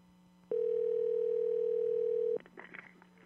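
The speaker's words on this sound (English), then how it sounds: "it's ringing. We got one ringy-dingy." A steady electronic telephone ringing tone sounds continuously for about two seconds, then cuts off into faint rustling and handling noise.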